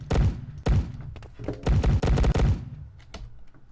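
Rapid bursts of gunfire from a first-person shooter built in Unity emptying a magazine, heavy punchy shots in quick clusters with short gaps, then a few softer clicks and thumps at the end.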